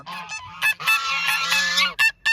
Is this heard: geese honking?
yes